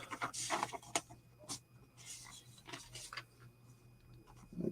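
Quiet papery rustling and a few crisp flicks as four sheets of paper are shuffled close by, in bursts with brief pauses.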